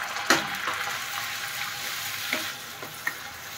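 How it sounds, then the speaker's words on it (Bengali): Mustard-chili paste with turmeric sizzles in hot oil with nigella seeds, a steady close frying hiss with occasional pops and stirring clinks throughout. "আর তার মধ্যে দিয়ে দেওয়া হচ্ছে কি, এটা সর্ষে লঙ্কা বাটা, হলুদ দিয়ে সর্ষে লঙ্কা বাটা।"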